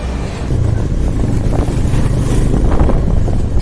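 A motorbike rolls through the old walled city of Jaipur, its engine drone blended with loud, steady wind rush over the microphone and no talking.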